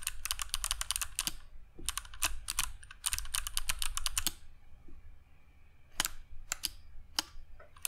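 A mechanical keyboard fitted with Kailh Box Jade clicky switches types in fast, crisp bursts of sharp clicks, close and loud, with short pauses and then a few isolated keystrokes.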